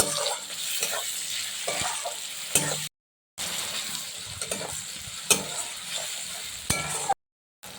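Tomatoes fry with onion and crushed garlic in a pan, giving a steady close sizzle with stirring scrapes and clatter, cut by two short silent gaps.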